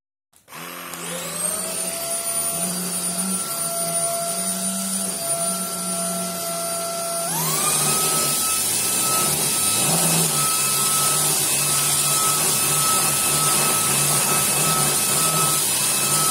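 Xiaomi Jimmy V51 cordless vacuum cleaner running with its small brush on a long-pile rug, a close, loud, steady high-pitched whine that starts suddenly, then rises in pitch and intensity partway through and holds.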